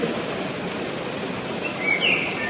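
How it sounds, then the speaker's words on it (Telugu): Faint bird calls chirp over a steady wash of background noise, growing slightly clearer near the end. "పక్షులు అరుస్తున్నాయి."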